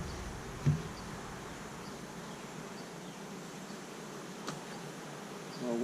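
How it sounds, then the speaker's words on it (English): Honeybees from a newly installed colony hum steadily around an opened hive during an inspection, a faint, even buzz with a couple of soft knocks and no talking. "And again, quite a few bees."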